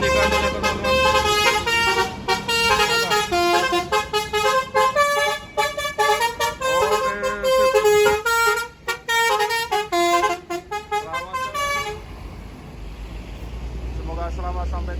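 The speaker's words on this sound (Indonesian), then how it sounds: "Oke, klakson baturi dibunyikan oleh teman-teman." Several tour bus horns blare in a musical, melodic pattern, overlapping loudly and nearby, before stopping to leave a low rumble at the end.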